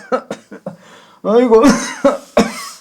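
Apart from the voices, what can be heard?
elderly man coughing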